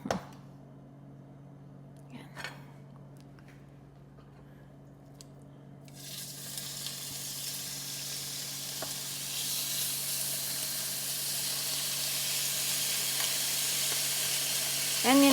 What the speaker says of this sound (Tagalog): Now, prituhin natin ang ating pork. Lagyan lang natin ng konting mantika.